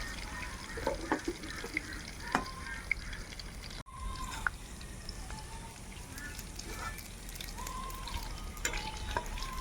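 Cumin and radhuni seeds temper in hot oil in a kadai, making a steady close sizzle and crackle with occasional stirring scrapes and clicks. No one speaks.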